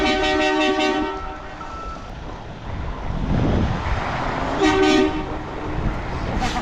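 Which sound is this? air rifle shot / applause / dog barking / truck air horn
truck air horn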